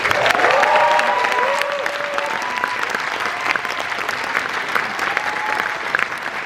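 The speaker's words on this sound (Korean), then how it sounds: "큰 박수로 환영합니다" Sustained loud applause from a concert audience welcoming a performer onstage at the 30th Yoo Jae-ha Music Competition, a dense wash of clapping that stays steady throughout with crowd noise mixed in.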